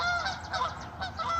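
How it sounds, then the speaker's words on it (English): Geese honk repeatedly nearby, several overlapping nasal calls in quick irregular succession, fairly clear over faint background. "Oh, geese."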